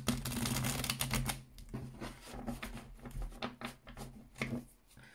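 Tarot cards being shuffled by hand, producing close, dense riffling and patting that is busy at first and then breaks into softer, irregular taps and flicks over a low steady hum, with no talking.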